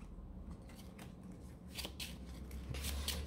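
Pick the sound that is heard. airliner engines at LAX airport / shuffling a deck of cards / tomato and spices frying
shuffling a deck of cards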